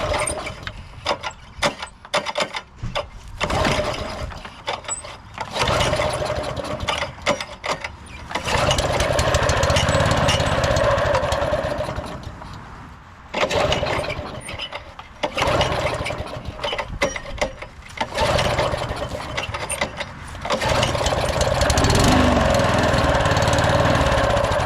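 A stripped-down small lawn mower engine with a dirty carburetor sputters into life in bursts, running loud and close for several seconds at a time with brief drops between, with no talking.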